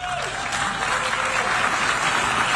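Dense, sustained applause from a large crowd in the UN General Assembly hall in New York as Netanyahu takes the stage, amid a walkout protest; steady clapping fills the whole stretch without speech.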